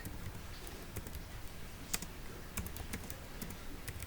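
Fingers type on a computer keyboard in quick, uneven bursts of soft clicks, faint and close, with occasional louder key presses.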